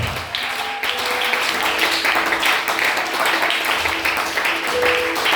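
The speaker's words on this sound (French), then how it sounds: "Donnez l'acclamation au Seigneur." A church congregation gives sustained applause during a worship service, clapping steadily with voices mingled underneath.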